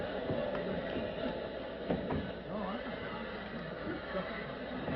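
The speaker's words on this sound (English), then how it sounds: "The horses are at the post." Racehorses gather at the starting post in an old radio drama about a murdered jockey, with a whinny and faint hoof sounds in a dense crowd-like background under ongoing murmur and talk.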